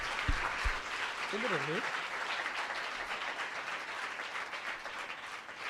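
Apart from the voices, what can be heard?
audience clapping during a sermon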